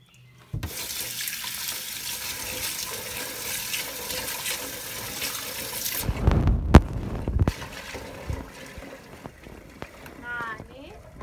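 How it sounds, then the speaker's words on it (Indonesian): Water poured over soybeans in a container while making tempeh, a loud close splashing gush lasting several seconds, followed by sloshing and handling noises, with a voice talking near the end. "Kita tuang airnya."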